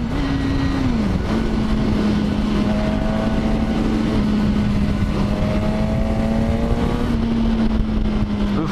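Suzuki GSX-S1000 motorcycle pulling hard on the throttle, a loud steady engine note holding pitch under heavy wind roar throughout, with a brief dip early on.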